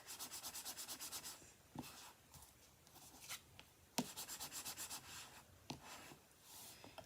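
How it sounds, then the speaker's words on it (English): A bone folder burnishes paper down on a handmade gift box, close quiet rhythmic rubbing strokes in short bursts with small taps between them. "take your bone folder and burnish that down"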